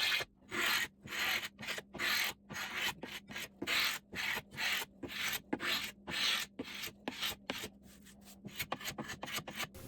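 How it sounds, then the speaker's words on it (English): Rhythmic scraping of old finish off a wooden dresser with a hand scraper, a steady run of short, quick rasping strokes separated by brief pauses, close by and moderately loud, with no talk. "On the edges, you just give some quick little scrapes on the edge to remove it, and you keep going."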